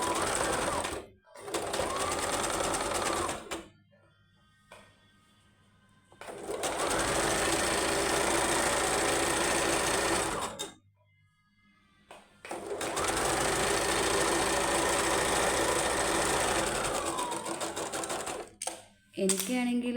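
An electric sewing machine runs stitching along a folded fabric edge, whirring steadily in two long bursts with brief pauses between, loud and close, with no talking.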